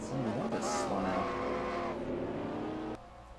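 Race cars spinning out at a Michigan oval in a racing video game, with dense layered engine whine and tire squeal sustained for about three seconds before cutting off abruptly, leaving a low rumble.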